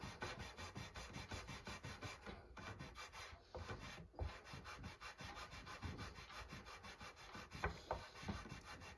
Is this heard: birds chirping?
no